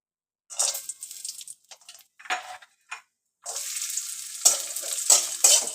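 Cashews and raisins frying in hot ghee, a bright crackling sizzle that starts in bursts and then settles into a steady close hiss with small pops.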